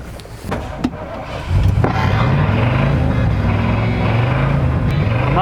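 A 1985 Ford Bronco starts moving, its engine rising to a steady droning rumble with shifting pitch under road noise, heard from inside the cabin after a few quiet clicks.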